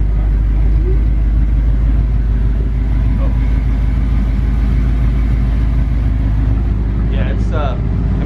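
An Audi R8 idles with a steady, loud low rumble that holds throughout, and a brief higher sound rises near the end.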